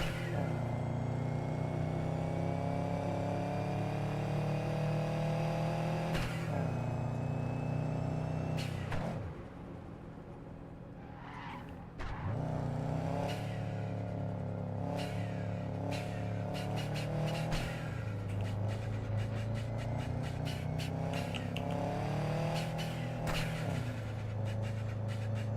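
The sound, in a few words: car engine revving, from a video game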